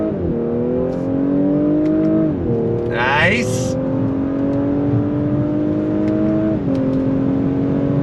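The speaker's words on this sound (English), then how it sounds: "experience what it's like to drive this S5 on throttle with the top up in cabriolet form" A 2022 Audi S5 convertible with the top up revs under throttle with rising pitch, shifts gears twice, and keeps accelerating; a brief voice speaks once over the steady engine drone.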